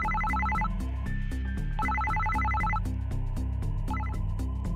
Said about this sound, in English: Suddenly, it seems like Shiori's cell phone started ringing.